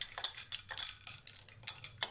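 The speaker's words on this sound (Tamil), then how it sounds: "இப்போ இதை நல்லா மிக்ஸ் பண்ணி விட்டுக்கோங்க." A spoon stirs palmyra fruit sarbath in a glass, making a steady run of close, sharp clinks against the sides, about every quarter second, with no talking.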